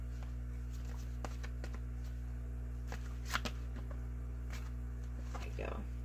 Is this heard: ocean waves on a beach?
no